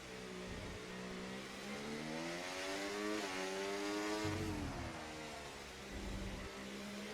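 Formula 1 race car at Circuit of the Americas running down the backstretch into Turn 12, engine note loud and continuous, pitch climbing and shifting through gear changes with a brief drop near the middle before rising again.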